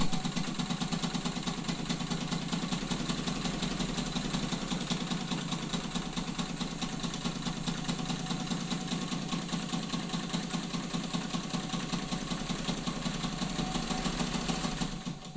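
A White Model 565 sewing machine stitches steadily, its rapid mechanical chatter running as a continuous, even whir at close range throughout, with no voices.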